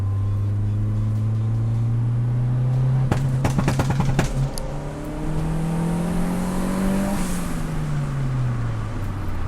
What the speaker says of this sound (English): So we just lightly apply the brake and floor it.